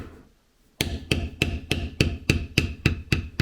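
A mallet strikes a leather beveler tool during leather carving, nine sharp, evenly spaced blows after a brief quiet start, each one close and loud with a short ringing tail.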